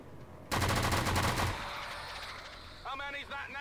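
A rapid burst of automatic gunfire rattles loudly for about a second in the XCOM 2 video game with the Halofall mod, followed by a lingering rumble and a brief voice.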